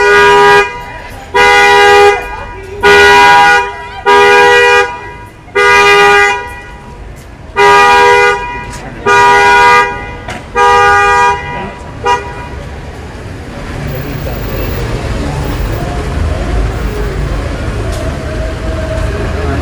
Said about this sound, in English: you're not going to hear over this car alarm going off